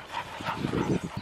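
Two male dogs playing together make short close yips, whimpers and panting sounds in quick bursts.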